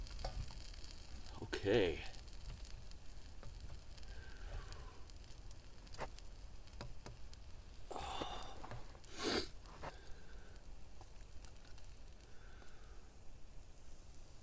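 Sausages sizzle in a pan over a bushcraft camp fire, a steady frying hiss running the whole time with a few louder crackles and stirring noises, while a voice briefly speaks.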